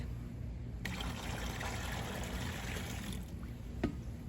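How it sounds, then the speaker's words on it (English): Diluted pesticide poured into a mixing bucket, a steady close splashing trickle of liquid lasting a few seconds, with a small knock near the end. "Now I dilute again into the mixing bucket."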